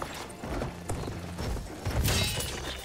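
Horses in the Battlefield 1 video game: hooves clip-clopping in an uneven run with a brief whinny and mechanical clatter, moderately loud, no talk over them.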